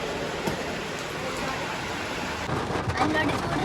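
Steady, dense hiss of heavy rain close by, continuous throughout with a slight rise near the end; no talking.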